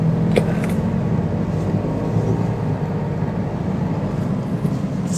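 A car engine hums at a low, steady idle as a student driver lets off the gas, with a continuous even drone and faint light ticks and clicks, no voices.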